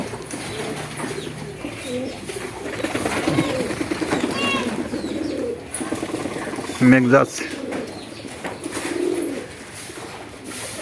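Pigeons preparing to lay eggs coo softly on rooftops outdoors, low murmuring calls beneath someone talking, with a brief louder flutter midway.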